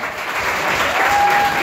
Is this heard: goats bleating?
no